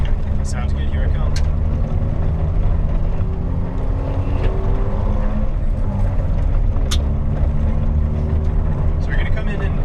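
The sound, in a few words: front-wheel-drive car driving in with left foot braking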